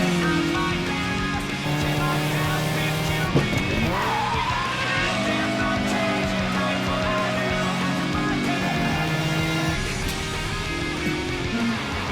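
Race car engines roar continuously while tires squeal with sliding, bending pitches around the middle, loud and close with no talking.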